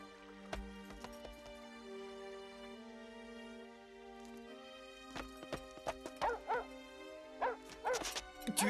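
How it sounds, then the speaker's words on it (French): Cinderella's dog in a cartoon barks in a rapid run of yips and woofs toward the end, after sustained musical tones, with hoof-like clopping mixed in. "Tu es le chien de Cendrillon?"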